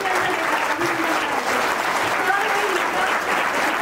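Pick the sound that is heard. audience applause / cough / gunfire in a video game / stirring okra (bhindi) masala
audience applause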